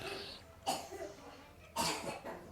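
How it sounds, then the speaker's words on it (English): Two short, harsh coughs from a young child, about a second apart, close by with quiet room noise between them. "And there she is coughing."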